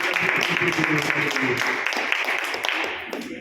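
Dense, loud applause fills a hall at a Brahmin association executive meeting, many hands clapping at once in a continuous roar that holds steady and tapers slightly at the end.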